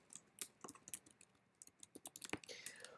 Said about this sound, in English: you can type in a code, type in a name